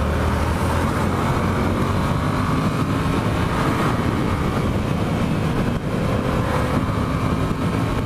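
Steady, fairly quiet road and engine noise rises from a car overtaking on an open road, a continuous drone with a broad rushing hiss and no talking.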